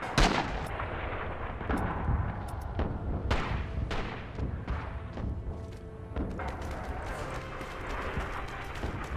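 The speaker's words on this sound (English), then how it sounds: "こちら小隊長から大隊へ、次の地点への砲撃を要請します" Rising Storm artillery barrage on Kwajalein: heavy booming shell impacts land in rapid, irregular succession over continuous rumbling battlefield noise, with scattered gunfire mixed in, loud and dense throughout.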